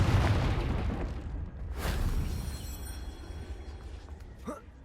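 A Confringo fire-blast spell from Hogwarts Legacy bursts with a deep booming explosion over a rumbling, noisy background, followed by a sharp zapping whoosh near the end.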